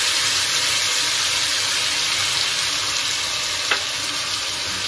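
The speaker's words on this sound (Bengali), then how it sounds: "তো এবার আমি এটাকে খুব ভালো করে কষাবো" Ground masala paste, with garlic paste and onions, fries in a pan over a lowered gas flame, giving a steady dense sizzle throughout with one brief scrape of a stirring spoon near the end and no talk.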